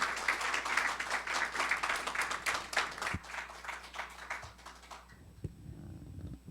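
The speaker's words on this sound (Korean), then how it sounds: "사장님을 큰 박수로 환영해 주시길 바랍니다." Audience applause at a KOGAS forum on energy transition and natural gas, welcoming the Korea Gas Corporation president. A dense crowd claps steadily for about five seconds, then the applause cuts off into quiet room noise with a few stray sounds.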